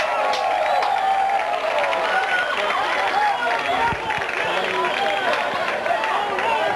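A lively crowd cheers and chatters at a 1990 South Carolina high school baseball state championship game, a steady roar of voices and whoops running throughout with announcer-style talk mixed in.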